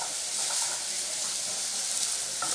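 Taioba leaves dropped into hot oil with garlic, giving a steady, dense frying hiss that fills the whole moment, close and even in loudness with no talking.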